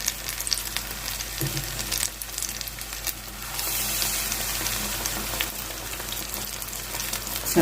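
Battered ripe jackfruit pieces frying in hot coconut oil, a continuous bubbling sizzle that swells louder partway through, close and alone with no talk.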